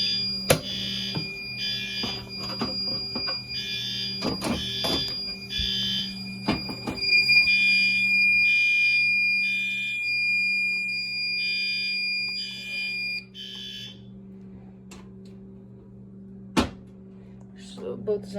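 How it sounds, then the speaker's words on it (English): A fire alarm system set off by a pull station pulses in repeated electronic horn bursts with a steady tone running beneath, alongside clunks and clicks, before cutting off to quiet; a person talks over it. "if you go ahead and pull a different pull station, not that same one, the alarms turn back on because it sets off a different zone."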